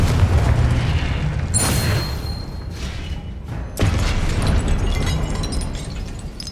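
A Confringo fire spell bursting in Hogwarts Legacy gameplay gives a heavy, booming explosion with deep rumble, then a second loud blast hits a few seconds later, with no talk.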